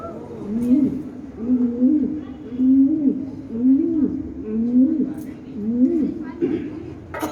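A human voice imitates a pigeon cooing in a deserted house, repeating a rhythmic, throaty coo about seven times at steady intervals, close and clear.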